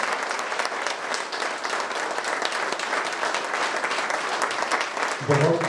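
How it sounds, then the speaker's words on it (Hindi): A standing audience at an honour ceremony for UPSC achievers gives loud, dense applause for the parents, sustained evenly throughout before a voice comes in at the very end. "जोर से उनके लिए ताली बजाएंगे।"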